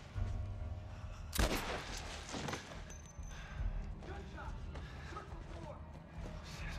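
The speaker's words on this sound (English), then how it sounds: "Gunshots!" Gunfire rings out in The Last of Us Part I inside St. Mary's Hospital: a few sharp, loud bangs spaced a second or so apart over rumbling game ambience and scattered noises.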